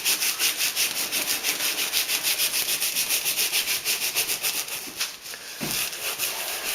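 Rhythmic rubbing of ink onto card for flower card making, close and steady with a regular back-and-forth pulse, ending with a soft tap.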